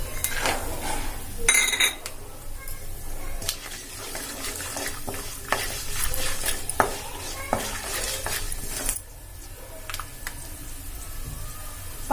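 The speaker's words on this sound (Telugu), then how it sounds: "పల్లీలు కూడా వేగిన తర్వాత" Peanuts frying in oil in a pan for tiffin-center style upma give a steady close sizzle with scraping stirring sounds and occasional clatters throughout. No one speaks.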